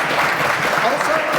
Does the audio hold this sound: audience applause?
yes